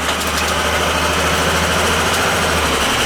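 A gas furnace blower fan motor in an older home system runs with a steady, close, loud hum and a constant low rumble.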